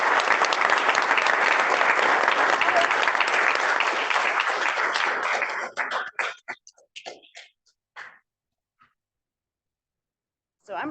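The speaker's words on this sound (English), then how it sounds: "Thank you for your applause." Club members applaud at a Kiwanis club award presentation, a dense, steady burst of clapping that lasts several seconds and then thins to a few scattered claps before falling silent.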